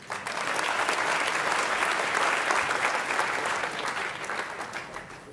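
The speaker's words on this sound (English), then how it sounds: "How about we give all of our finalists in the small business category another huge round of applause." A banquet audience at a business awards gala dinner gives a long round of applause for finalists. The clapping swells to a full, steady roar and then slowly thins toward the end.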